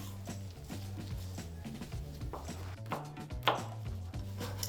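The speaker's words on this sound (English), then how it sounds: "we'll just go ahead and cut these again into some strips" A knife cutting seeded pepper into strips on a board for black bean salsa, a quick run of soft rhythmic chops, close and fairly quiet.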